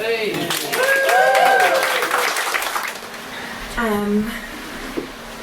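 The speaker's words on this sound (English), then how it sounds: "Can we please give a round of applause to the wonderful Dora?" Audience applause for a poet at an open-mic poetry night, steady broadband clapping through the first few seconds with voices cheering over it, then thinning out as a person begins to talk.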